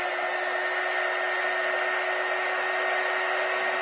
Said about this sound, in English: you're going to take an embossing gun and we're going to heat these